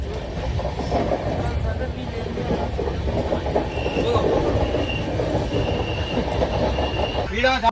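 A passenger train runs steadily, heard from inside a carriage: continuous rumbling wheel noise with faint clicks and squeals, under people talking nearby.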